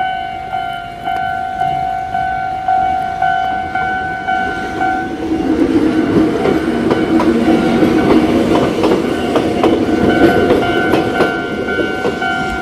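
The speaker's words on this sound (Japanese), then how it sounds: "ちょうど電車来たな" A train runs past near a city station in Hirosaki, first sounding a long steady horn-like tone over rhythmic clatter, then rumbling loudly as the cars roll by close up.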